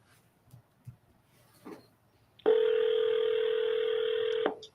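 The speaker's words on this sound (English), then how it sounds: "while the phone's ringing" A telephone rings once in a long, steady electronic tone during a live cold call, the ring clear and fairly loud after a few faint knocks and rustles, with no talking.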